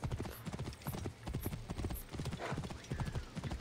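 Hoofbeats from a ridden horse in Assassin's Creed Origins thud in a brisk, regular trot, close and steady, with a few brief high chimes above.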